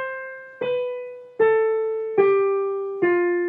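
A major scale is played back down in descending order: five ringing notes struck at an even pace, each decaying before the next lower pitch sounds.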